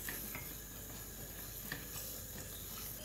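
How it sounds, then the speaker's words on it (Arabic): A quiet, soft sizzle runs under repeated scraping strokes as butter and flour are stirred into a thick roux in a pan. "ونبتدي بقى نقلب"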